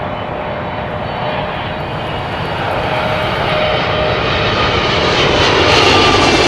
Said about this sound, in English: Air Canada's 777, 333 coming in from Toronto.